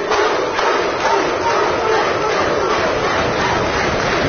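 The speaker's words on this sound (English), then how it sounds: "You talk about a wired up crowd." Wired-up wrestling crowd at a TNA event in South Hill roaring and cheering as the opening bell sounds, a dense, loud, continuous wall of voices with no pauses.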